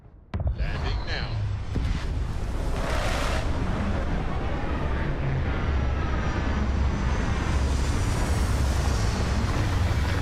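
A spaceship comes down to land in the Starfield video game with a loud, steady roaring engine rush after a sharp onset and a few swelling whooshes, holding a dense, continuous thrust noise throughout.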